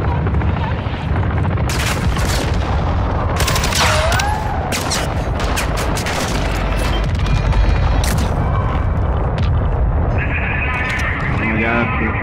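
Sustained gunfire in Call of Duty: Modern Warfare 2 (2022) DMZ mode: loud, dense bursts of shots and booming blasts that overlap continuously, with sharp cracks standing out over a constant roar of battle.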